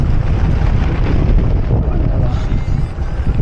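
Strong mountain wind at a pass near the Gorges de Galamus blasts the microphone in a heavy, unbroken low rumble, loud and close from start to finish.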